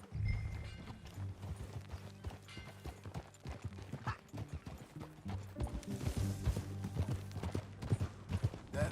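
Horse hooves clip-clopping at a steady riding pace in the video game Red Dead Redemption 2, close and fairly loud over soft game ambience, with a brief whinny-like sound and no talk.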